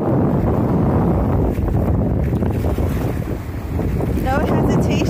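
Steady wind roars across a microphone at a seaside beach in Puerto Peñasco on a breezy October day, a loud continuous rush with faint surf and water beneath it and no talking.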